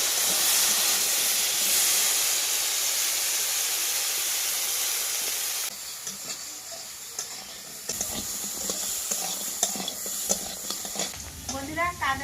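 Cut crabs dropped into hot oil in a kadai in a Sundarban village kitchen: a loud, roaring sizzle and hiss that drops to a quieter crackle, with stirring clatter and some talk toward the end.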